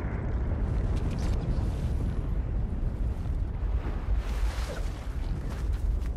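A loud, sustained rumbling roar of an explosion in Fortnite, like an erupting blast over lava, with no talking.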